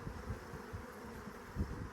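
Honey bees from a queen-grafting hive humming in a low, steady drone, quiet and continuous with a couple of slightly louder swells.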